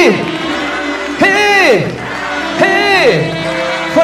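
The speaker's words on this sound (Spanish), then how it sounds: "el público les da un voto fuerte, fuerte de aplausos" Crowd at a wedding celebration cheering and whooping for the newlyweds, with loud voiced shouts swelling in two bursts over a steady crowd murmur.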